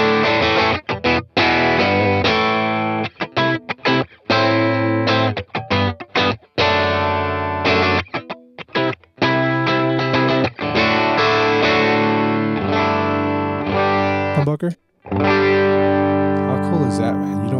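A Yamaha Pacifica Standard Plus electric guitar on its split-coil single-coil setting plays through pedal effects. Loud, distorted sustained notes and chords ring out, broken by short choppy gaps, then a longer held passage.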